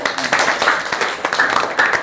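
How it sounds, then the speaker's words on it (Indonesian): A classroom of students claps together in a dense, steady round of applause lasting the whole moment, close by and fairly loud, with a few voices mixed in. "Bagus, tepuk tangan."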